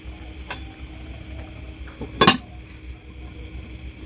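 A lid is set on a pot of simmering tofu. Over a low kitchen background there is one faint tick, then a single sharp metallic clank as the lid lands.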